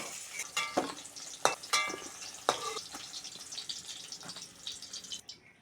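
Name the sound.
frying in oil while cooking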